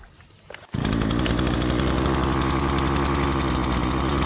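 A chainsaw engine roars to life after a quiet moment and runs loud and steady close by, its chain freshly lubed but running too loose, the engine bogging down in a woodland while coppicing hazel.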